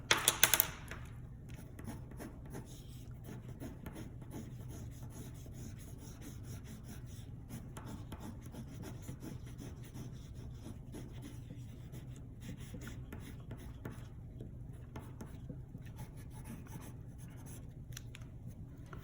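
A white pencil drawing on paper, a continuous soft scratching and rubbing with small irregular strokes, close and fairly quiet, running steadily after a brief louder tap at the start.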